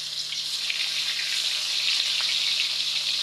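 Koi fish hiss and crackle as they fry in hot oil, a steady close sizzle with small pops that stays level throughout, with no voices.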